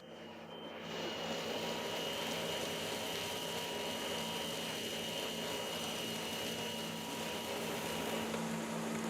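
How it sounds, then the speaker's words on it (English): A steady mechanical whir from a centrifuge grinding roasted cocoa beans with cocoa butter in a chocolate workshop. The motor hum holds constant throughout, with faint tonal whines over a broad hiss. "then ground and mixed with cocoa butter in this centrifuge"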